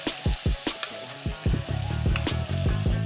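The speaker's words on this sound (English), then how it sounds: "So I'm just gonna baste that bad boy." Filet mignon sizzling in a pan while being basted with butter, a loud close frying hiss punctuated by repeated rhythmic spoon-on-pan clinks and splashing scoops of butter, no one speaking.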